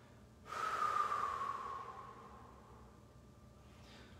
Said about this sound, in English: hold here for another four deep breaths